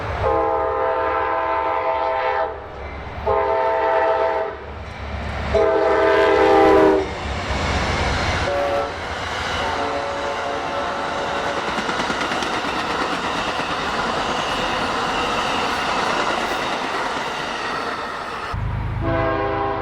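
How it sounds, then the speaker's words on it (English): Amtrak's southbound Silver Star passenger train races through town in Folkston, sounding several loud, drawn-out horn blasts before a heavy, continuous rumble and rail clatter as it passes close by. "Amtrak's southbound Silver Star was the next train to race through town"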